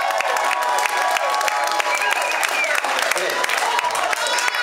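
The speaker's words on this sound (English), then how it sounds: "Give yourselves a big hand." Audience at a punk rock concert in Montreal applauds and cheers steadily, dense clapping and crowd noise filling the room loudly and close throughout.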